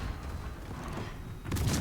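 Warship guns fire in the World of Warships video game, heard as distant rumbling blasts that swell into a heavier, louder boom near the end.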